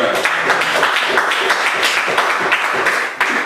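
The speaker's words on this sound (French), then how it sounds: "Acclamons pour le Seigneur." A church congregation breaks into sustained, loud applause, with many hands clapping steadily together and a few voices mixed in.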